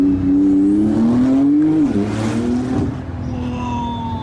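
Porsche 991.2 Turbo accelerating hard in manual paddle-shift mode, a loud close engine note climbing in pitch, dipping at a gear change and pulling up again, heard from inside the car.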